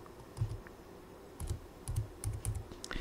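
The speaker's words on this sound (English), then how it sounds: "So I'm going to go ahead and start typing this." Typing on a computer keyboard while entering an R Commander install command in Ubuntu; several short clusters of quiet, close keystrokes with brief pauses between them.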